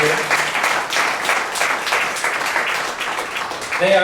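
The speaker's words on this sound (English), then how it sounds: "let's give them a round of applause." Audience at a neighborhood summit gives police officers a round of applause, a loud dense burst of many hands clapping in a large room, a voice briefly audible near the end.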